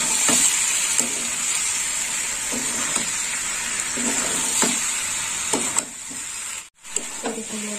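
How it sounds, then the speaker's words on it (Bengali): Vegetable curry frying in a pan with a steady sizzle, stirred at intervals that bring soft scraping strokes roughly every second, close and continuous throughout. "আর একটু নেড়ে চেড়ে দেবো।"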